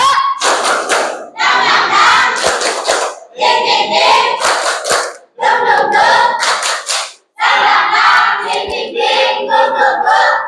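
A classroom of students performs a rhythmic spirit clap with a teacher, loud patterned bursts of clapping alongside shouted chanting voices, with brief pauses between the phrases.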